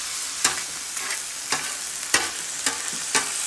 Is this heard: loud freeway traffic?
no